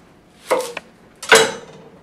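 A knife slices through an onion on a cutting board in two distinct cuts about a second apart, each a close, crisp crunch and thud with no talk.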